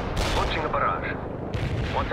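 Heavy artillery barrage in the real-time strategy game World in Conflict: Soviet Assault, a dense continuous roar of overlapping blasts and rumbling fire with no clear gaps, loud and sustained throughout.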